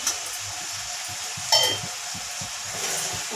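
Mutton fries in a pan for bagara rice as chili powder and salt are stirred through, giving a soft continuous sizzle with scraping strokes and one brief metallic clink of the utensil against the pan.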